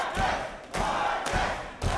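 A pro wrestling crowd at a Phoenix Pro Wrestling tag match cheers and roars in surges, with sharp thuds from the ring punctuating the noise and a commentator talking over it.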